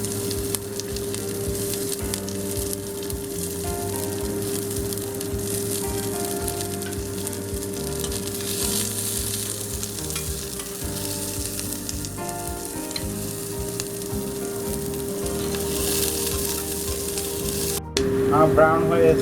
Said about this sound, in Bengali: এরপর আমি এর মধ্যে পেঁয়াজ, যেগুলো আমি চপ করে রেখেছিলাম, সেটা ব্রাউন ব্রাউন করে ভেজে নেব।